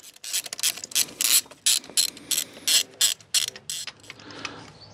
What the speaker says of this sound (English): Might have to get a bigger ratchet.